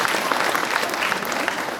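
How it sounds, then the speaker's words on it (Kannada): An audience at an award ceremony for Bheemanna Khandre, where he receives the Dr. Channabasava Pattaddevaru Kannada Ratna award, claps loudly and steadily, with dense continuous applause throughout and no speech over it. "ನೀವೆಲ್ಲರೂ ಜೋರಾಗಿ ಚಪ್ಪಾಳೆ ತಟ್ಟೋರಿಗೆ ಬಾಬು ವಾಲಿ ಅವರಿಗೆ ಧನ್ಯವಾದಗಳನ್ನು ಅರ್ಪಿಸಬೇಕು."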